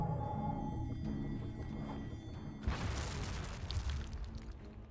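Explosions in the strategy game Fantasy Wars, a broad rumbling burst erupting partway through over a continuous bed of game music and effects, fairly loud and close.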